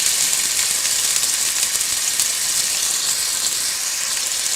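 Onions sizzling in melted ghee in a frying pan, a steady bright hiss that holds evenly throughout without breaks, close and fairly loud.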